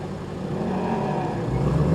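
A 700-horsepower car launching hard, its engine noise a steady, loud, dense roar that builds slightly toward the end, with no voices.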